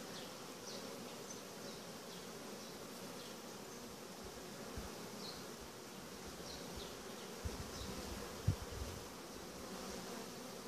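Honeybees hum in an open hive with built-out comb, a constant soft drone with individual bees buzzing close by now and then, no talking.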